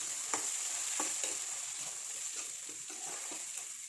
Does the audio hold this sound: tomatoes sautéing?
yes